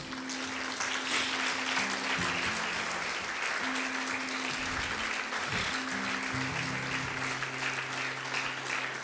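A church congregation claps in a sustained offering of applause to the Lord at a sermon, the clapping dense and continuous over a low, steady musical hum, with no pause for about nine seconds.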